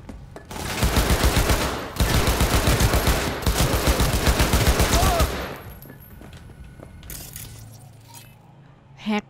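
Rapid bursts of automatic gunfire in the video game Cyberpunk 2077, loud and sustained in several volleys over the first half, then quieter mechanical clicks and a reload with a final thud.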